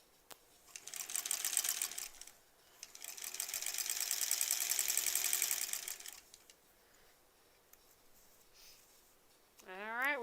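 A sewing machine runs a quilt block seam in two bursts of fast rhythmic stitching, a short one and then a longer one, followed by quieter handling and a brief rising sound at the end.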